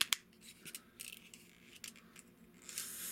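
Small plastic parts of a Transformers Masterpiece Optimus Primal figure click and snap as they are folded into place, giving a few quiet, close, scattered clicks and scrapes with no voices.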